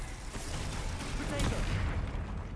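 Confringo and Glacius spells cast in rapid succession during Hogwarts Legacy combat, a dense burst of blasts and booming impacts with busy battle noise throughout, loud and close, with a voice speaking over it.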